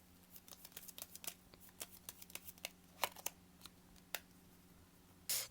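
Tarot cards being shuffled and drawn by hand, a run of soft crisp flicks and snaps close up, fairly quiet, ending in a brief louder riffle.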